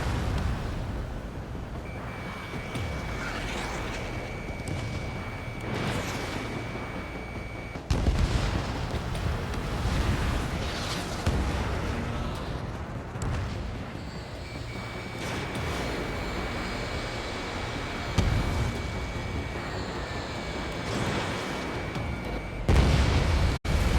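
Explosion of an enemy bomber in the Ace Combat 7 jet combat game, heavy booming blasts and rumble over continuous engine roar, with a thin steady warning tone and a sharp burst near the end.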